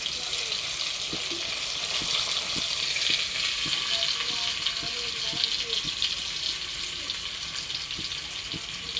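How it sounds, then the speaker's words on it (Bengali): Teasel gourd (kakrol) frying in a home kitchen on a hot day, a steady close sizzle with occasional light scraping and stirring clicks from the pan, continuous throughout with some faint background movement. "আমার কাঁকরোল ভাজা হয়ে গেছে, এখন তো নামাবো।"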